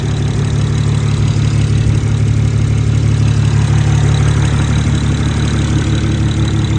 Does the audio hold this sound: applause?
no